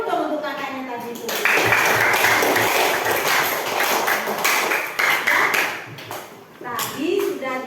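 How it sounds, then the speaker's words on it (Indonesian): Schoolchildren in a classroom clap together in a loud burst of applause lasting several seconds, with voices talking before and after. "tepuk tangan dulu dong untuk kakaknya tadi itu"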